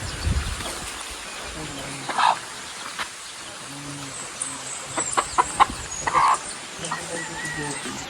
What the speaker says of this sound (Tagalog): ang dami silang manok dito